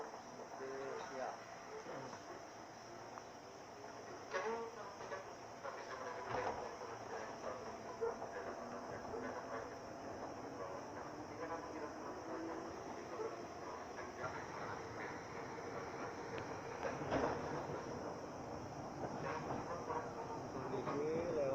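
A commuter line train near Juanda station in Jakarta, heading toward Depok station, rumbles steadily with faint clacks and rattles, heard from inside along with quiet talk and a distant dog bark.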